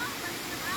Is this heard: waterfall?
yes